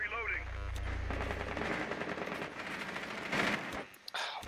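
Gunfire rattles in a Rainbow Six Siege team match on the Chalet map, a dense burst of rapid shots under game sounds, with a short sharp shot near the end.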